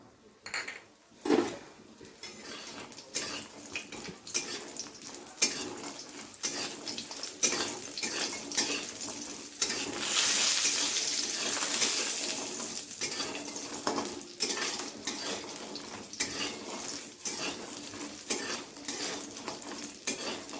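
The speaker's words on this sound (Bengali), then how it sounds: "তো পুরো সমস্ত বড়িগুলোকেই এরকম ব্রাউন কালার করে ভেজে নিতে হবে।" Bori, small Bengali lentil dumplings, frying in oil in a wok over low heat, giving a steady soft sizzle with frequent clinks and scrapes of a spatula stirring against the pan, and no one speaking.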